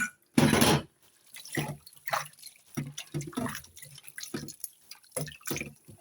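Water splashes and drips as dyed fabric is rinsed, with one loud sloshing burst near the start followed by a run of smaller, uneven splashes and trickles, close by and with no voices.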